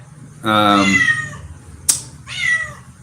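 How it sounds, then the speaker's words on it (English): A restless house cat missing its canine playmate meows loudly and up close, two drawn-out cries separated by a sharp tap, with someone talking faintly in the background. "I assume that the cat is going nuts because it misses its playmate"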